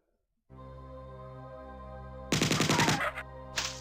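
Assault rifle fire in the first-person shooter Marathon: a sharp, rapid burst of about eight close, loud shots over a steady electronic drone, followed by one more short shot after a brief pause, with no talking.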